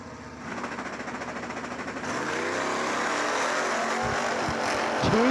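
Door-car drag racers thunder down the strip toward the finish line at a Moser Engineering Door Car Duel, a loud sustained engine roar that builds and swells near the end.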